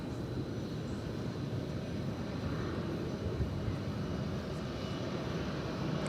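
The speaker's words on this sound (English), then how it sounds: "So is that plane going over to the east side to take off?" Jet airplane at DFW Airport, a steady distant engine rumble and whoosh carrying evenly throughout with no voices.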